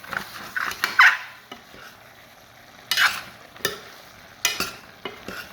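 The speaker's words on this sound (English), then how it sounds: "So just stir it a little bit so that the masala doesn't get stuck at the bottom so much." Potato and capsicum masala being stirred in a pan, a spoon scraping and clinking against the metal in several separate strokes over a faint background sizzle, close and fairly clear.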